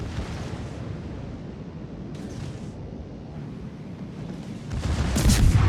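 Torpedoes from the Vampire destroyer strike targets in a naval battle game, a steady rumbling wash of water and distant booms that swells into a louder burst of impacts near the end.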